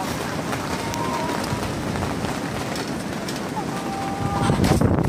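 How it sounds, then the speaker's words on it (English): Strong wind roars in a steady broadband rush outside a flooded chicken coop, buffeting the microphone and gusting louder toward the end, with faint bird chirps over it. "Much better, but it's windy. You can hear it."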